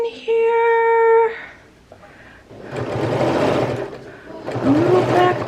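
A home sewing machine stitches seams in two bursts of rapid whirring with a short pause between them. A brief harmonic tone comes before the stitching.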